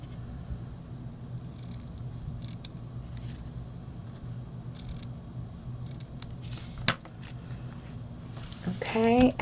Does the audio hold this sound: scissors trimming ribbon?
yes